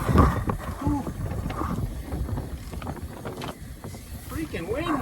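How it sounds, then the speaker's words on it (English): Gusting wind buffets the microphone outdoors in a steady low roar, with scattered voices and brief vocal sounds over it. "Freaking wind, man."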